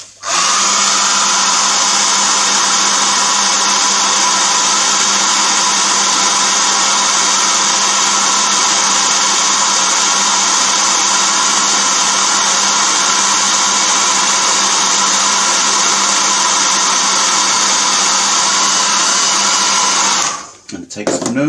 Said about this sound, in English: So I'm just going to blast this with the hairdryer.